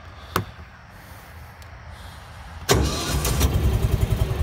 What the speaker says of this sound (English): Starts right up, nice and quiet too. This is a 400cc air-cooled engine.